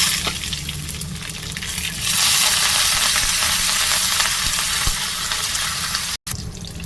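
Cumin seeds hit heated oil in a pan and break into a loud, steady sizzle that rises after a brief quieter start and continues close by without talk.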